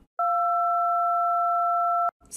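A telephone-like dual tone generated in Audacity sounds as one steady, clean, loud beep lasting about two seconds, starting and stopping abruptly, followed by a brief faint noise.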